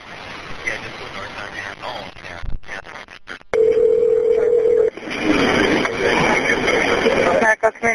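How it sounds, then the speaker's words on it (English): A telephone dial tone sounds on a 911 call reporting a road accident, a steady, clear tone lasting over a second after muffled voices and handling noise, followed by a loud broadband rush of line noise. "you're going to hear a dial tone in the phone ring"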